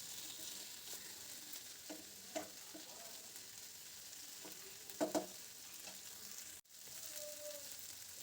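Pumpkin and potato pieces fry in a pan and are stirred, giving a steady low sizzle with a few soft scrapes and knocks from the spoon, close and fairly quiet, with no talking.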